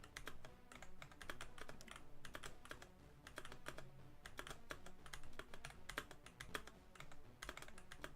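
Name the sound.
typing on a new computer keyboard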